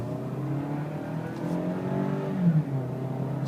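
Engine of a 2012 Toyota Camry SE fitted with a modified air box, revving up with a rising, moderately loud hum, no voices over it.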